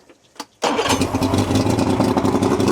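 Scout 177 Sportfish boat engine cold starting after sitting two years: a brief crank, then it catches abruptly and settles into a loud, rough, steady running idle up close.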